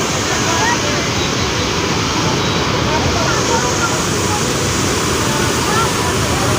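Bhimkund waterfall roars as a dense, constant wash of falling water, loud and close with no break, its full-band rush filling the whole stretch while a voice may sit faintly under it.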